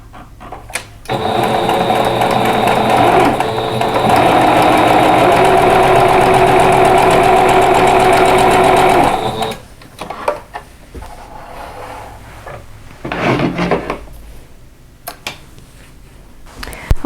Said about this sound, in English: I'm just going to sew these one right after the other.